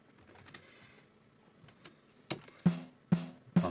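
A compressed snare drum sample with a 40 millisecond compressor attack, three punchy, evenly spaced hits that land sharply toward the end, after a stretch of faint clicks and low background noise.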